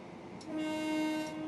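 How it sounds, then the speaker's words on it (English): A Class 377/4 electric train in Train Sim World sounds its horn, a steady two-tone blast that swells in and holds loudly for about a second, alone without talk. "I'm going to sound the horn in pride"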